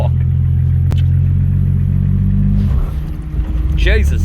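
An RB30-powered drift car with a manual gearbox holds a loud, steady engine drone at high revs, then the note drops and wavers before picking back up, with voices in the car near the end.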